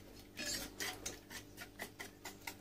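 A spoon stirs cake batter with oil in a bowl, a steady run of soft scraping and clinking strokes repeating close by, with no talk over it.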